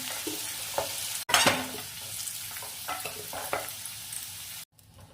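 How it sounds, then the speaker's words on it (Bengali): Potatoes fried reddish-brown in oil in a pan sizzle steadily up close, while a utensil stirs and scrapes through them with a few sharp clinks as they are lifted out. "আলু লালচে করে ভাজা হয়ে গেছে, এখন এই আলুগুলো তুলে নিচ্ছি।"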